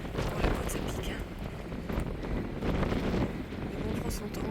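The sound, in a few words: wind blowing on a mountain climb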